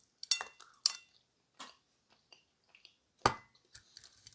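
Close, quiet chewing and biting of edible clay with a few distinct crunchy crackles spaced apart against near silence.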